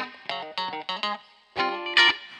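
Electric guitar with both pickups out of phase strums a few short choppy chords with a thin, hollow, effected tone, close and alone, each stab cut off quickly before a final two louder ringing chords.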